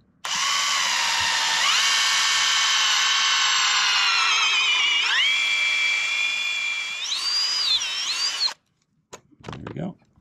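A power drill whines loudly at high pitch, its tone shifting as the bit bites into a PVC boat splash rail, then stops abruptly followed by brief clattering handling noises.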